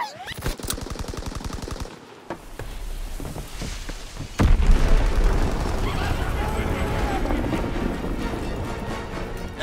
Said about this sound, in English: Enemy mortar incoming!